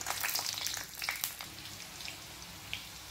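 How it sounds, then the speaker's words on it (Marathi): Green chillies fry in ghee in a wok, giving a steady bright sizzle that is loudest at first and then settles into an even crackle, with no talking. "कढईमध्ये साजूक तूप घातलेलं आहे, त्यामध्ये आता या हिरव्या मिरच्या घालायच्या आहेत।"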